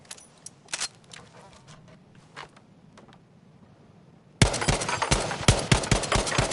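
Gunfire in the video game Battlefield V: a few scattered single shots and quiet clicks, then a sudden loud run of rapid automatic fire, close and continuous to the end.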